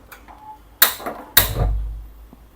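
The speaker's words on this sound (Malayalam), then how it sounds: "ഇനി നമുക്ക് സ്റ്റൗ കത്തിക്കാം." A gas stove being lit in a home kitchen before cooking a ridge gourd and potato thoran: two sharp igniter clicks about half a second apart, followed by a low, soft roar as the flame catches and settles.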